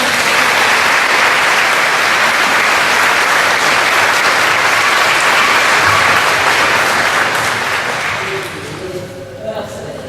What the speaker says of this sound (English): Let's have another round of applause for Matthew, please.